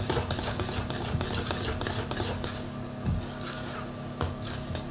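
Flour being stirred into a mascarpone flan batter in a bowl, giving a steady close scraping and stirring with repeated light utensil ticks against the bowl over continuous low kitchen noise.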